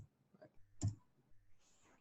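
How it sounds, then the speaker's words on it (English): A single sharp keypress on a computer keyboard, the enter key, sounds once as a quiet close click amid faint room noise. "now I'm going to hit my enter key"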